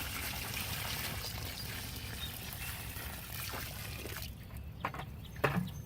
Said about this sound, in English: let me get some water and dump one here, and then backfill it some more